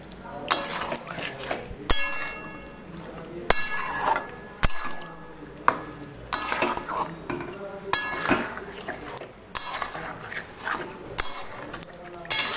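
Chicken kosha being stirred in a pot, with repeated metal clanks and scrapes of a spoon against the pot coming close and loud in uneven bursts.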